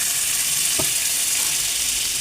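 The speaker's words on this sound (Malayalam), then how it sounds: "അതിലേക്ക് 1 സ്പൂൺ ബട്ടർ ഇട്ട് കൊടുക്കാം" Butter melting in a round pan while making kunafa pudding gives a steady, even sizzling hiss that holds at one level throughout, with a faint scrape near the middle and no voices.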